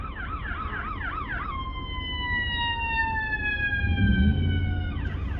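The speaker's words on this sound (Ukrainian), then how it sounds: "Це була швидка допомога." A wailing ambulance siren in the United States sweeps up and down nearby, then shifts to a long falling tone, over steady traffic rumble.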